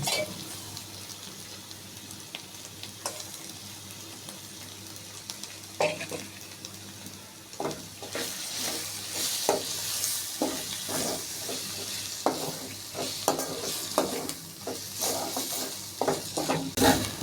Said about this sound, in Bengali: টক দইটা দিয়ে আমি ভালোভাবে মশলার সাথে মিশিয়ে নিয়েছি